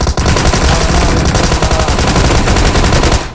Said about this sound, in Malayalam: അവനെ വെടി വെച്ച് കൊല്ലാൻ പറ്റുമോ?